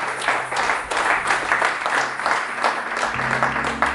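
Congregation at a church service applauding to acclaim the king, a dense continuous wash of clapping held at steady loudness throughout, with a low hum underneath.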